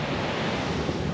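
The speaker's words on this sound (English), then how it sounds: "So we live in the beach" Ocean surf at a beach in Liberia washes in as a steady, broad roar, mixed with some wind buffeting against the microphone.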